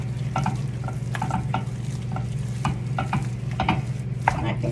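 Thick gougeres choux dough being stirred in a pot, a steady series of soft, close scraping and slapping strokes repeating at a loose rhythm over a low constant hum.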